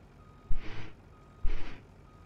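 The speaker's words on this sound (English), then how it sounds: "Oh, this semi goes slow in reverse, but it's okay." Two short bursts of reversing beeps from a semi truck backing up slowly in Farming Simulator 19, each about half a second long and a second apart, close and fairly loud over a low engine rumble.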